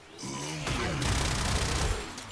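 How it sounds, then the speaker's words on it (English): Gunfire from a weapon in the Warframe video game, a dense burst of rapid shots lasting about two seconds, loud and close with no talking. "the reason I'm shooting headshots first, because crit is increased, and this weapon is pretty much laser accurate"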